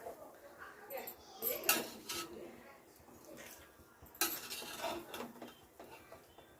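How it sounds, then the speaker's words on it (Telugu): Cooked khichdi rice being mixed in a pot with a metal spoon, giving irregular clinks and scrapes against the pot's sides, close and moderately quiet, with no voices. "కలుపుదాం ఒక్కసారి."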